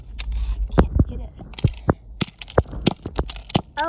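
A flip phone is smashed with repeated sharp cracking blows, irregular and close, over a low background hum, with people talking between hits.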